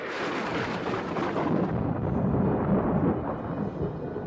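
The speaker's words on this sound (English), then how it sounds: "Thunder crashed over the house." Thunder serves as a sound effect in a ghost audio story, rolling as a loud, deep rumble that swells and then slowly fades out.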